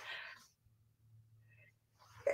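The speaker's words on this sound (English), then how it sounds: "Of course I have to sneeze right when I'm doing this, right?" A single short sneeze bursts out near the microphone at the start, followed by quiet breathing and a faint sharp vocal sound at the end.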